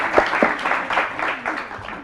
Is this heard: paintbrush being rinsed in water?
no